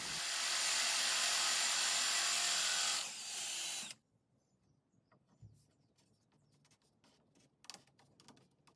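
A Forstner bit bores into maple to make a hole sized for a dowel, giving a loud, steady, close-up drilling whine for about four seconds that then cuts off abruptly, followed by quiet handling clicks and taps.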